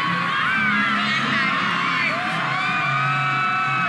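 A large crowd at a Malaysian National Day celebration cheers and whoops in a steady, dense roar, with voices calling out and talk woven through it.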